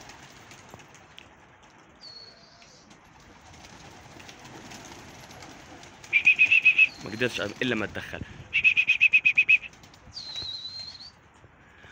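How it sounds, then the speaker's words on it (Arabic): Pigeons on a rooftop loft burst into flight in two loud, rapid flurries of wing flapping, with soft cooing and chirps around them and someone talking quietly in between. "هاي الحمام كلها طلعت، هسه بتشبك مع بعض."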